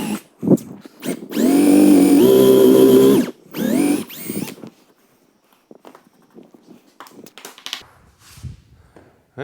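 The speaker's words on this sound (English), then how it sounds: "So I'm just going to be drilling in roughly the depth of this" A power drill bores holes into wood, whining loudly for about two seconds in one sustained burst with a pitch shift, then a shorter burst, followed by scattered handling knocks.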